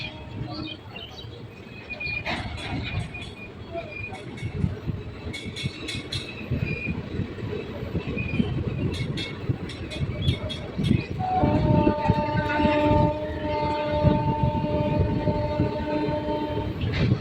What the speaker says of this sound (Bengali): আমাদের ট্রেন এখন দাসকল গ্রাম স্টেশন ছেড়ে বেরিয়ে যাচ্ছে